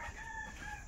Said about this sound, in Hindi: ओ मुर्गी है, फीमेल है